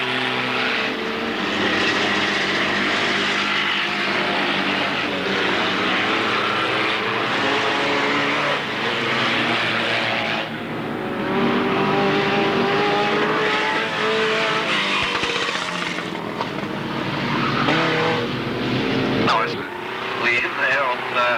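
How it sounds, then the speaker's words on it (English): Race cars roaring past at Alwalton Raceway in 1983, a continuous loud engine drone that swells and fades as cars go by, with a commentator talking over it throughout. "414, that's the second car now going past the starter's rostrum, and 81 in third spot."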